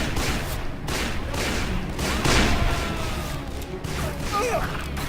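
Gunfire from the Western shooter game Call of Juarez: Bound in Blood: a dense, steady volley of pistol shots with loud bursts around the middle, over a constant layer of game noise and voices.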